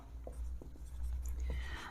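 A pen scratches on paper in short, quiet strokes during a maths lesson, with faint ticks and scrapes over a low steady hum.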